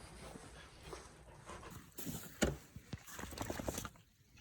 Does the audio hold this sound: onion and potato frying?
no